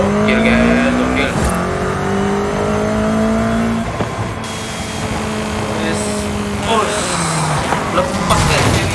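A Honda Civic Type-R revs hard in Forza Horizon 5, its engine note climbing through several gear changes with rising harmonic sweeps, loud and close, under excited talk.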